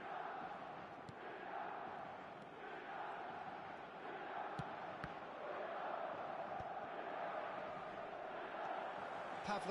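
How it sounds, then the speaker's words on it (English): A stadium crowd in the eFootball 2025 football game cheers in a dense, continuous roar that swells slightly toward the end, with a faint commentator's voice underneath. "at least the crowd are appreciative of his efforts"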